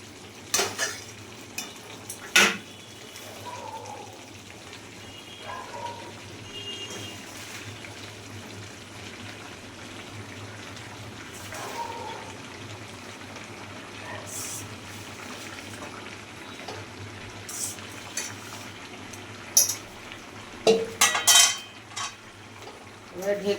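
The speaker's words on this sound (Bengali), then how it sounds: "এবার আমি শাকগুলো দিয়ে দেবো এর মধ্যে।" Leafy greens being stirred into braised chicken in a pan, a Nepali-style chicken dish: steady soft sizzle with scattered utensil scrapes and clinks against the pan, close and moderately loud, with no talking.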